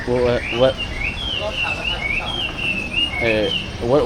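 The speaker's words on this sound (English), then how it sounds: "the people that loves birds must really probably love the noise." Birds chirp and tweet in a busy chorus at Chatuchak pet market, with high warbling calls close by and people talking underneath.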